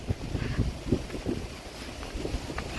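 Ocean waves roll in along a village shore, a continuous low rumbling wash with gusty wind buffeting the microphone throughout.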